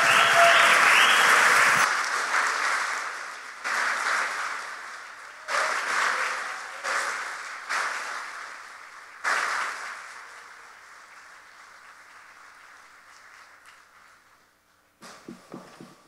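Applause from an audience at an alumni awards ceremony for a faculty teaching award recipient. It starts full and dense, then breaks into several shorter bursts that fade, with a few faint claps near the end.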